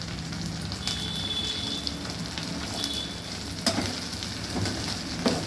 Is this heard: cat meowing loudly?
no